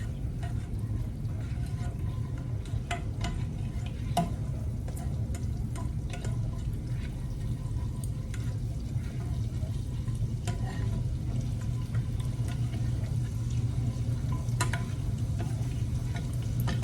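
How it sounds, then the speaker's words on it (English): Garlic stirred in butter sauce in a pan makes a steady, close sizzle, with scattered light clicks and scrapes from the utensil running throughout. "Just gonna stir that up a little bit."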